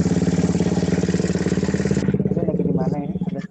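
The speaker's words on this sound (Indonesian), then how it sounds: "Ada suara sepeda motor." A motorcycle engine runs in the background near someone on an online call. It gives a loud, steady, throbbing drone that shifts and thins toward the end.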